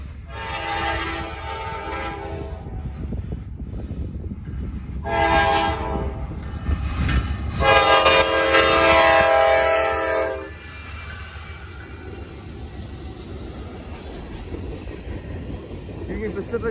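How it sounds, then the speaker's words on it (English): A Norfolk Southern freight train rumbles steadily past, its loud horn blaring in several long blasts, then the engine noise carries on alone. "All right, we got a Norfolk Southern train."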